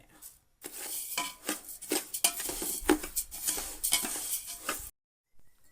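Rice being dry-roasted in a pan while making homemade sambar powder, a busy scraping and rattling of grains stirred against the metal, close and continuous, then stopping abruptly.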